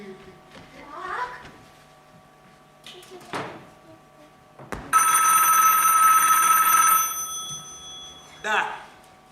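A telephone bell rings loudly and continuously for several seconds in a cartoon kitchen, preceded by brief clatters and followed by a shorter burst, with voices nearby.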